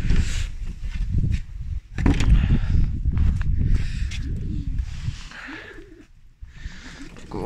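Pigeons settle in their coop on a cold winter evening, soft cooing and muffled flutters mixing with nearby shuffling footsteps and handling noises, close and irregular.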